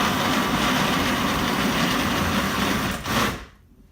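A kitchen blender runs loud and close with a dense, even motor roar, grinding on for about three seconds before cutting off abruptly into quiet.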